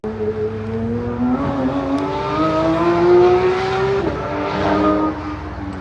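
A Porsche RS accelerates hard at the Porsche Experience Center in Los Angeles, its engine note climbing loudly and steadily through the revs before easing off near the end.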